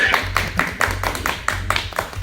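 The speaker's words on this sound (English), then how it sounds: "Can we give both of them a round of applause for that?" A small group claps in a round of applause, the separate hand claps distinct and fairly close, with a low hum underneath.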